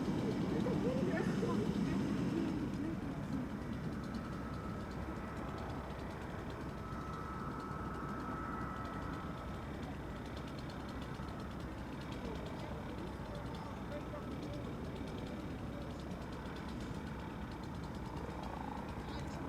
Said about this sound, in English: That's the helicopter leaving again, that yellow helicopter.